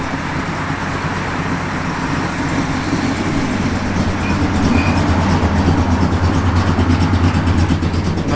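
Steady, loping idle from a cammed 1970 Plymouth Road Runner, close and fairly loud, growing slightly heavier toward the end with no revs or voices.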